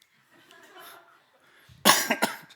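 A person coughs in a quiet hall during a Friday prayer meeting, a short cluster of two or three harsh bursts close to the microphone after some faint murmuring.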